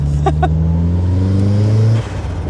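A turbocharged Mazda MX-5 engine revs hard and climbs steadily in pitch, loud and close, then drops off abruptly, with a couple of brief clicks near the start.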